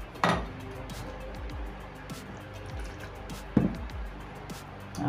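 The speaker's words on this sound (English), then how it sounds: "I'm rinsing the egg container" Water drips and trickles as an egg container is rinsed while preparing whole wheat Nigerian buns, with a couple of sharper splashes and faint clinks and quiet wet movement in between.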